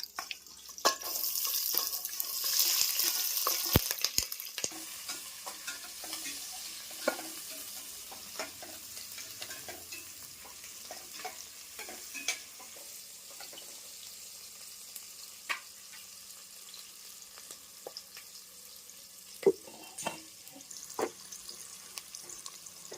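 Onions and tomatoes frying in a pan for chicken biryani, a soft continuous sizzle with scattered clicks and scrapes of stirring, plus a brief burst of running tap water near the start.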